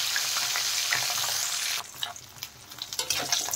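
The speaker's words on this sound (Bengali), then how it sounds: "মাছের মাথা দেখেন ভালো করে ভাজা হয়ে গেছে।" A fish head fries in hot oil in a pan for a cabbage dish, giving a steady loud sizzle that turns into scraping and clattering stirring partway through.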